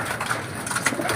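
Several pigeons coo repeatedly in a loft as feeding time nears, soft rolling calls close by and overlapping, with no talking.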